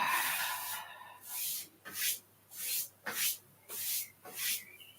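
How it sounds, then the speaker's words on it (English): Hands rubbing and smoothing down the body during a gentle qigong routine, a soft brushing swish repeated in about five slow, even strokes, close and alone with no talk. "Just gently smooth down the body."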